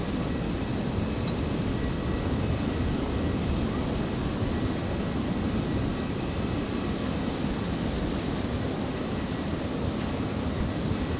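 Aircalin Airbus A320neo arriving at Brisbane from Noumea, a constant, dense jet roar holding at steady volume from start to finish without audible talk.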